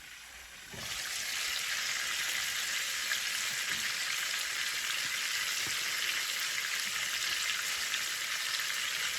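Pork chops frying in pork fat in a home kitchen, a steady loud sizzle and crackle that starts abruptly and keeps going without pause, close by and with no talk.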